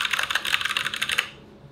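Rapid, steady clicking of keys on a mechanical keyboard in a home studio, close and crisp, running for over a second before stopping abruptly.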